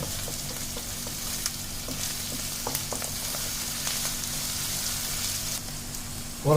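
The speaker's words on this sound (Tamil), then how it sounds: "அப்புறம் அந்த பூண்டு புல் கொஞ்சம் ஹை ஃப்ளேம்லேயே வச்சுங்க நல்லா ஃப்ரை பண்ணுங்கள்" Garlic frying in a pan over a high flame, a steady close sizzle running throughout with a few light clinks of stirring, no voices.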